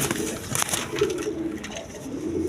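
Kaldom pigeons, a female and a male, coo softly in low repeated tones amid steady farm background noise.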